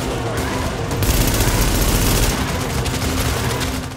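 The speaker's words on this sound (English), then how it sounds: "I got this light machine gun." A light machine gun in Tom Clancy's The Division rattles in a loud, continuous burst of rapid shots that holds steady for several seconds over thick combat noise.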